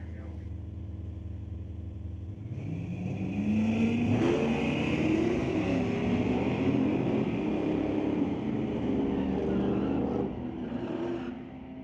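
A Dodge drag racing car launches and accelerates down a quarter-mile strip at an ET series bracket race, its engine roaring steadily from a distance for several seconds before fading.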